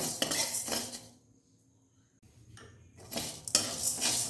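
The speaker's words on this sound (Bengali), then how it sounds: "দেখুন আস্তে আস্তে নাড়বো, নাড়তে নাড়তে চিনিটা গলতে থাকবে আর ক্যারামেল হয়ে যাবে।" A utensil stirs sugar in a pan as it melts toward caramel, with scraping, clinking strokes near the start and end around a quiet pause in the middle.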